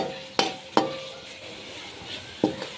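Peas frying in a pan with added ingredients, stirred with a utensil: three or four sharp scraping knocks over a steady low sizzle, close and moderately loud, no voices.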